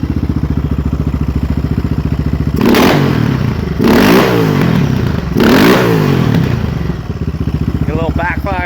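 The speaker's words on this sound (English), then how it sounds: "After it warms up, it idles like this." A Yamaha Raptor 660R ATV engine, freshly overhauled and warmed up, idles with a steady, loud single-cylinder thump, broken by three short throttle blips that rise and fall before it settles back to idle.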